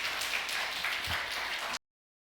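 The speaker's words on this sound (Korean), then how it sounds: "이 시간 나오실 때 박수로 환영하며 강사님 맞이하도록 하겠습니다" Congregation applause at a New York Korean church service, welcoming a guest speaker to the front: a soft, steady wash of clapping from a distance that cuts off abruptly.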